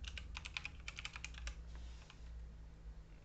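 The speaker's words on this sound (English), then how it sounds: "Now you want to type Skittle right here." Quick bursts of typing on a PC keyboard, soft clicking keystrokes close by in a quiet room over a low steady hum.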